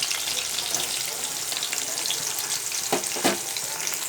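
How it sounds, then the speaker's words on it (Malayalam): Shallots and garlic sauté in a pan, giving a steady hiss of frying with a few sharper scraping stirs near the end, heard close and without talk. "വഴന്ന് വരട്ടെ കേട്ടോ. ഒന്ന് ചൂടാക്കിയെടുക്കാം."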